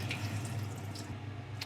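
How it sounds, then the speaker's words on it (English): Water poured off freshly cooked pasta into a sink gives a brief close splashing and trickling sound, with a few drips near the end and no talking. "And now I'm just going to pour all this water out again."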